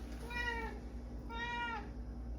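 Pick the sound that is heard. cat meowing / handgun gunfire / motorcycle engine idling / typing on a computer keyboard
cat meowing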